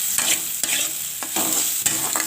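Chopped tomato and shrimp fry in a pan with a steady close sizzle, broken by four or five scraping stirs of a spatula, and nobody speaks.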